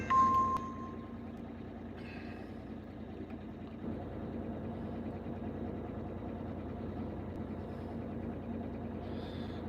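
A car runs close by, a steady low engine rumble holding throughout with a brief higher tone near the start and small bursts of noise around two seconds and the end; no one speaks.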